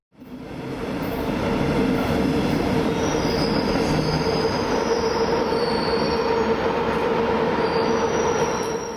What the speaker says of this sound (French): Une locomotive tchèque se met en place sur notre courte rame.